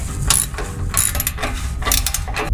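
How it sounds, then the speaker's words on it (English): A ratchet wrench tightens the exhaust cutout bolts on a Ram 1500 Hemi, giving close, crisp bursts of rapid clicking in several quick strokes. "With everything aligned, we can now tighten all the bolts."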